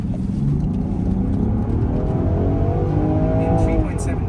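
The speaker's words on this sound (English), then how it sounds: "let's do this acceleration here of a Land Rover Defender" A 2023 Land Rover Defender 90 X Dynamic SE accelerates, its engine note rising steadily in pitch over road and cabin rumble, heard from inside the vehicle.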